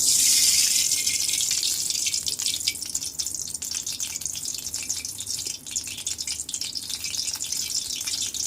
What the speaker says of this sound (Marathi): कढई तापल्यावर आपण ते तेल टाकून देऊ